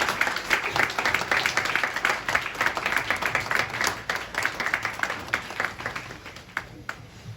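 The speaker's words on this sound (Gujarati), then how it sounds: "આપણે જોરદાર તાળી એમના માટે પાડીએ અને પ્રભુનો આભાર માનીએ" Church congregation clapping together, a sustained burst of dense applause lasting several seconds at moderate distance, thinning out toward the end.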